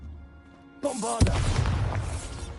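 A magical Bombarda blasting spell detonates in Hogwarts Legacy, a sudden loud boom that rumbles on into a crackling, debris-filled tail after a brief rising whoosh.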